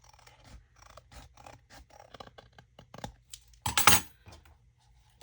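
Scissors cut the edges of a wallpaper folio, giving a close series of snips and crisp paper scrapes with a louder rustle near the end and no talking.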